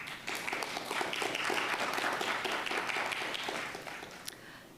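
Audience applause at a Bremerton municipal court judge candidate forum, a steady patter of many hands clapping in a hall for several seconds before tapering off.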